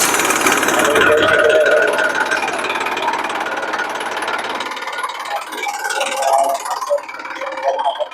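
A tractor engine runs close by with a loud, steady, rattling rumble that thins out slightly toward the end.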